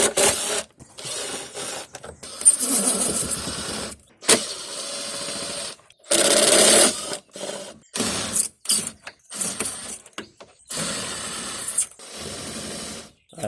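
Ratchet wrench undoing several 10mm bolts on the fuel filter cover of an Audi A6 C7, quick bursts of metallic clicking ratcheting separated by short pauses, close and fairly quiet.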